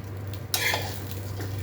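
Prawns sauté in butter in a pan, a steady close sizzle with a brief scrape of a utensil stirring them partway through, no voices.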